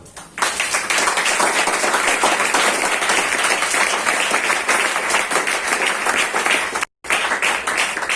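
A church congregation applauds steadily and loudly for several seconds, the dense clapping continuing almost without pause and cutting out briefly near the end before resuming.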